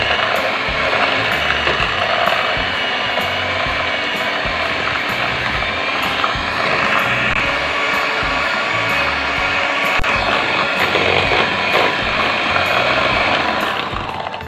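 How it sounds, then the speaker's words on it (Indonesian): Electric hand mixer beating margarine and powdered sugar for cookie dough in a bowl, a steady whirring motor with rapid rattling beater clatter, close and loud, running continuously for about fourteen seconds without speech. "Sekarang kita mixer semuanya sampai tercampur rata."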